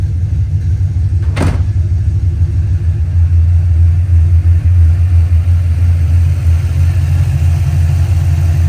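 A 1995 Ford Mustang GT's V8 engine idles with a steady low rumble throughout, close by, with one brief sharp click early on.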